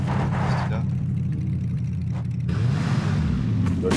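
A car engine in the PUBG video game rumbles steadily underneath, revving slightly near the end, while players talk over it.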